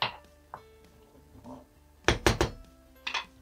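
A spoon scrapes and clinks against a pot while stirring bulgur pilaf with chicken and vegetables just after water is poured in, a few soft scrapes followed by a cluster of sharp metallic knocks nearby, no talk.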